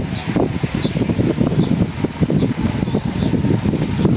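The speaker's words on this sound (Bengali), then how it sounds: "আজকে প্রচণ্ড বাতাস।" Strong wind gusting steadily outdoors at a village cooking spot while a wok heats for frying onions, a continuous rough broadband roar with rustling throughout, no speech.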